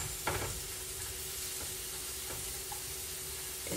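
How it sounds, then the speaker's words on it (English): Onions sautéing in butter and garlic in a pan, a steady soft sizzle running throughout with a few faint clicks of stirring, close and continuous with no talking. "we going to let these onions saute in all its goodness."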